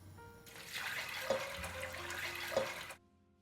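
Water pours into a pot of beans for Jamaican rice and peas, a steady splashing rush lasting a few seconds with a couple of brief clinks before it stops.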